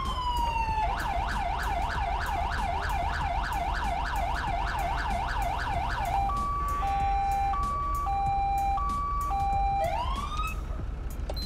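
Police escort sirens in GTA 5 blare loud and near, first a fast rapid wail cycling repeatedly, then switching to a slower two-tone hi-lo pattern and a rising whoop at the end.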